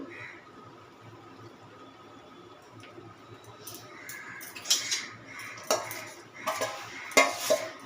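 Mixed okra paste spooned into a kadai, heard as quiet scraping at first, then several sharp spoon clinks and scrapes against the metal pan.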